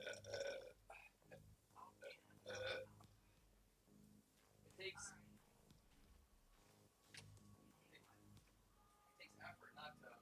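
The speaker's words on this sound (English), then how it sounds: "It takes effort not to vomit when burping up" Several wet, croaking burps from bringing up carbonation, some long and guttural, some short, close to the mic, with quiet talking and rustling between them.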